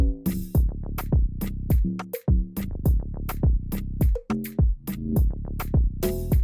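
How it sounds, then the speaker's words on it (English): Afrobeat pattern built in FL Studio, with deep bass notes, punchy pitched log drum hits and a crisp snare in a steady, syncopated groove, loud and alone with no talking. "If we play the bass and the log drum with the snare, it sounds like this."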